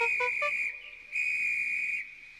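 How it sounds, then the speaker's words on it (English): A railway guard's shrill whistle blows in two long, steady blasts, the first opening with a few quick chirping bursts, then a short gap before the second sustained blast. "The guard blew his whistle till he had no more breath"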